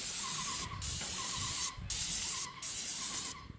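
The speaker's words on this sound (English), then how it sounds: "this is how you respray a roof in Jamaica" Steady hissing bursts of a spray gun painting a roof, four long sprays separated by short pauses, close and continuous.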